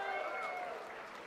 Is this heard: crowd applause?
yes